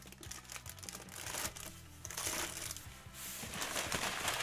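Plastic bags holding papers from pre-owned toy packaging crinkle and rustle up close, quiet and continuous.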